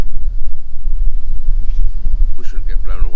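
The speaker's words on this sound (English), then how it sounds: "It's a bit blowy" Strong gusting wind buffets the microphone on a canal boat mooring before the engine is started, a constant low roar throughout, with a brief voice near the end.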